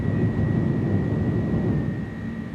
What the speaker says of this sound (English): takeoff thrust is set. I mean, that is a quality noise